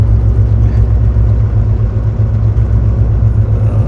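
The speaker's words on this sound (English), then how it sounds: "And listen how smooth that truck is." Pickup truck cruising smoothly on a road after a night of driving through California snow, a loud steady low engine and road rumble with no talking.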